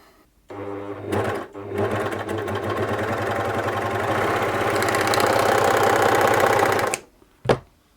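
A serger runs in a fast, steady mechanical whir after a brief start, stitching continuously for several seconds before stopping with a final clunk.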